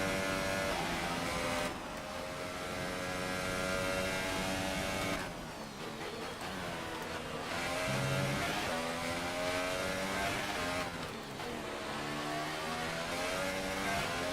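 A Formula 1 car in F1 2018 on the Austria circuit, engine whining steadily with rising and falling revs through gear changes as it laps alone, heard close and continuous throughout.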